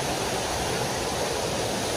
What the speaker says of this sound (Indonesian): Dan ni dia air terjun.